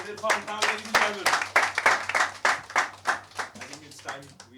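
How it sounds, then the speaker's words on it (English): An audience applauds Irrfan Khan at the unveiling of a Stardust magazine issue, a lively burst of many clapping hands with rapid uneven claps, mixed with crowd voices and a sustained low hum underneath. "Please give him a huge round of applause."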